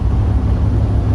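A truck engine with an Eaton 10-speed transmission drones loudly and steadily as the driver floats gears, a heavy low rumble that holds level throughout, close to the microphone.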